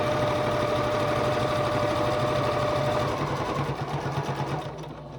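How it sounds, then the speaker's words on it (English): Loud, steady whirring of a sewing machine stitching binding straight down the edge of a gingerbread star table topper, slowing and fading slightly toward the end. "we're going to stitch straight down the edge here"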